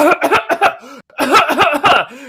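A voice imitates coughing in two quick bursts of harsh, rough hacks, separated by a brief pause, close and loud.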